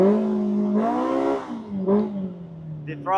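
Polaris RZR Pro R side-by-side fitted with an MBRP slip-on sport exhaust, engine revving up and down in loud close blips with a rising and falling tone, ending in a sharper rattle.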